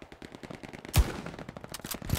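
A sniper rifle fires in the online war shooter Hell Let Loose. One sharp, loud shot cracks out about halfway through and a second follows near the end, over a busy background of distant battle noise.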